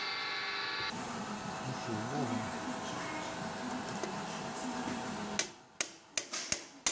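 A hammer strikes a mandrel to drive a chilled bushing into place in a Volkswagen T5 1.9 cylinder head, giving a few sharp, loud knocks near the end after a stretch of workshop noise and talk.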